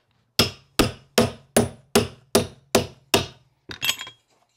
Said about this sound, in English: Hammer tucker.